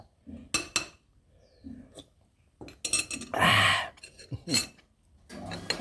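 A spoon scoops food from a shared dish of Thai paddy-crab stew, with a few short metallic clinks of cutlery against the bowl between quiet pauses, close and fairly soft.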